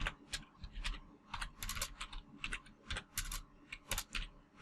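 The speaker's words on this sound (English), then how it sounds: "Sorry for my bad typing, but I'm trying to do this." Fast, uneven typing on a computer keyboard during a Minecraft FTB session, clusters of crisp clicking keystrokes with short pauses, close and fairly quiet, no voices.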